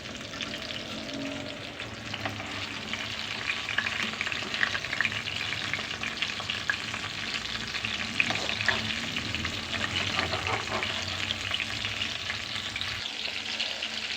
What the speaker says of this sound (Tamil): சங்கரா மீன் தான் வறுத்துட்ருக்கேன்.